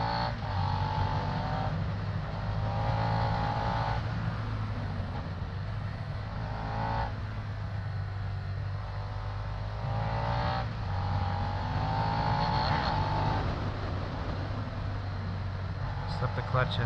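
Suzuki SV650 motorcycle ridden on the road, engine note rising and falling steadily as the clutch slips and gears shift, with a continuous low drone and someone talking over it throughout.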